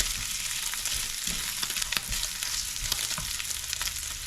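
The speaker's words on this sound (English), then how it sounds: "the bacon. Once it gets nice and crispy, and we'll be ready to fill" Bacon fries toward crispness in a pan for stuffed baby bella mushrooms, a dense, close sizzle with constant crackling and spitting and no voices.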